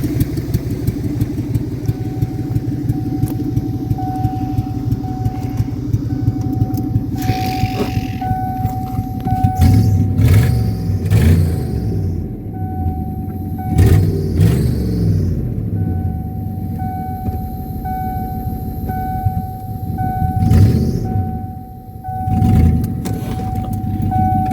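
The engine of a 1989 Lincoln Town Car runs close and loud with a steady idle rumble, then revs and strains in several surges as the car starts to move, while mechanical clunks sound over it.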